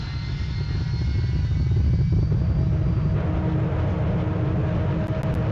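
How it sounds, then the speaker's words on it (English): Loud airplane engine in the Roblox game Pilot Training Flight Simulator, a heavy, steady low rumble and roar with a faint whine on top, continuous and close, with no talk. "One of the loudest planes in Pilot Training Simulator."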